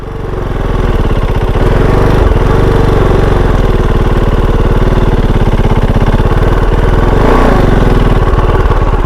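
A Suzuki DRZ250 dirt bike engine idling in gear, a loud, close, steady single-cylinder thumping that runs unbroken throughout with slight swells.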